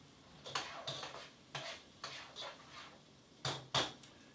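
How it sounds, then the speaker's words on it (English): A spoon scrapes and clinks against a pot as a whole chopped onion is stirred, giving a series of short, irregular scraping strokes up close, with no talk. "I'm going to stir."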